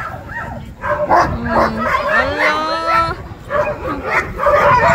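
Sled dogs barking, yipping and whining at the start area of the Finnmarksløpet long-distance dog sled race in Finnmark, loud and close with overlapping yelps and a drawn-out whine, while a person talks over the excited pack.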